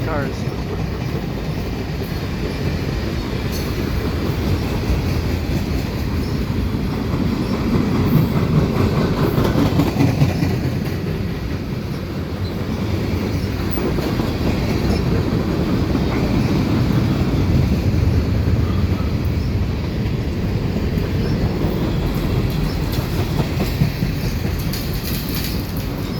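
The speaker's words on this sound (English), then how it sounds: "And that's the end of the train right there." CPKC freight train with CP and KCS power and old ballast cars rolling past near Dorval, Montreal: a loud, continuous rumble of wagons with rhythmic clickety-clack of wheels and occasional squeal, heard close up.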